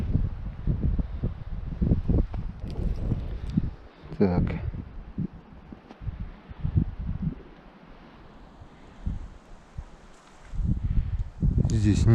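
Strong wind buffets the microphone in winter taiga, with gusty low rumbling bursts that rise and fall throughout, loudest at the start and end, while someone speaks briefly over it.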